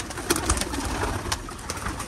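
Pigeons released into the open air coo softly in a few short calls over a steady, noisy outdoor background.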